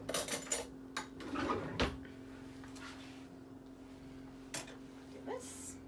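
A spoon is taken from a home kitchen drawer with a few quiet rattles and metallic clinks of cutlery, followed by a soft knock. The clatter is faint against low room hum.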